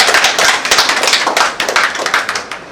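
An audience at an Inner Wheel Club of Mumbai Dahisar gathering breaks into applause: loud, close, rapid rhythmic hand claps that pulse unevenly throughout, with no talking.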